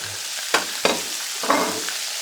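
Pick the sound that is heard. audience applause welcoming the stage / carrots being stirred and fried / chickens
carrots being stirred and fried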